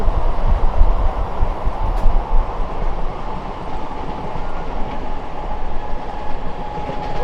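A local train rolls into Kamarkundu station, a loud close rumble of wheels and cars throughout, heaviest at the start and then holding steady.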